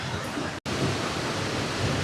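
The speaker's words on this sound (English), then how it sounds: "Second waterfall of the trip," A waterfall in Michigan's Upper Peninsula rushes in a steady, dense roar, close and continuous with a brief dropout.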